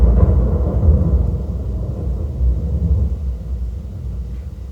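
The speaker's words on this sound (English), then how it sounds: "Haven't seen a storm like this since." Deep thunder from a storm rolls in a continuous low rumble, loud and heavy at first, then slowly fading, with no other sounds above it.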